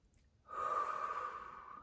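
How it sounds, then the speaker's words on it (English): Several people take a deep breath together, a soft, airy whoosh that swells in after a short pause and holds steady for over a second before slowly fading. "Really, let's breathe."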